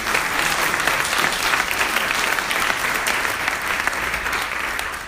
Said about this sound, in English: I'd really like to give a big round of applause for our staff advisor